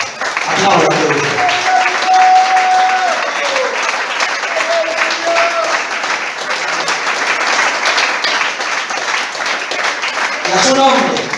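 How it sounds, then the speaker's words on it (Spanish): Steady applause from a church congregation, sustained for several seconds with a brief voice near the start and end. "Aplausos."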